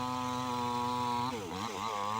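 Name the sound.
electric chainsaw cutting wood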